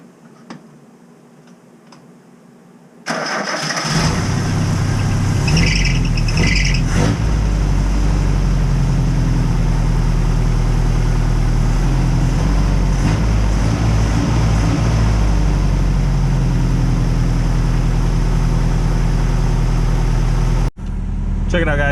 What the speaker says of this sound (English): Check it out, guys, the truck is on. Don't mind if it's being so loud, I have no exhaust.